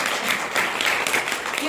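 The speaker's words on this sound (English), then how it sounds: "I'm giving you a round of applause for that" Audience applause at a talk on self-confidence, a steady wash of clapping from a crowd that runs the whole moment without pausing, with a voice faintly heard alongside it.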